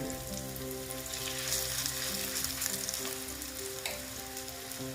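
Battered bread frying in a pan of plenty of oil, a steady dense sizzle with crackling, close and continuous, no talk.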